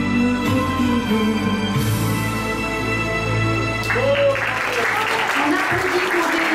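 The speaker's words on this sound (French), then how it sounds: "On applaudit Corinne dans une très jolie chanson" An audience applauds after Corinne finishes singing a love song at a Valentine's Day show, a dense steady patter of clapping lasting throughout, with a voice and some background music mixed in underneath.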